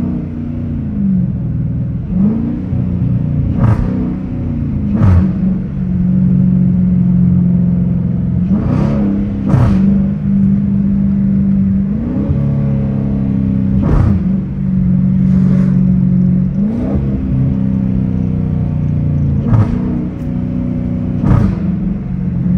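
A Dodge Challenger R/T in sport mode with no traction revs and accelerates through repeated gear shifts, its engine note rising and dropping in close, loud, continuous pulls.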